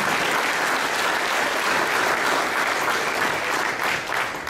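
Dense, sustained applause from a large audience at a Khalsa Aid gathering in Winnipeg, steady and loud throughout with no voices over it, easing off slightly near the end.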